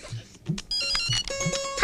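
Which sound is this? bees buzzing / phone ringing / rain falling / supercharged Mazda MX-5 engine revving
phone ringing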